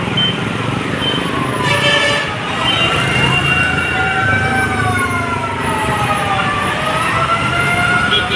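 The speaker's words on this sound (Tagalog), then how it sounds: "mayroon din dito galing sa Intramuros na fire truck" A fire truck from Intramuros wails its siren loudly and continuously, rising and falling over heavy street traffic noise during a fire at Pier Parola.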